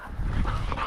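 A hunting dog makes brief whimpering, yipping sounds in the field during a windy-day pheasant hunt, with steady wind noise underneath, close and fairly loud for about a second.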